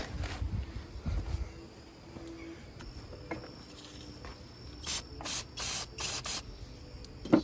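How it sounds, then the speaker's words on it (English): Several short hissing bursts from an aerosol can of rust remover sprayed into an ATV engine, evenly spaced near the end, over low background noise. "Spray all that in there."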